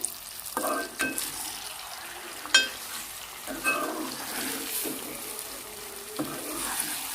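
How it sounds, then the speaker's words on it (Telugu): Onion paste being stirred into a sizzling masala brinjal curry in a pan, with soft frying hiss and a few sharp spoon scrapes and clinks at irregular moments, close by. "ఆనియన్ పేస్ట్ ఉంది కదండి ఇది ఇప్పుడు వేసేసుకుందాం ఒకసారి కలుపుకుందామండి"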